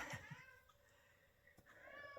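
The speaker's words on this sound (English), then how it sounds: "And my cat" A pet house cat meows indoors, a couple of short plaintive calls followed by a longer drawn-out meow, faint and close, with no talk over it.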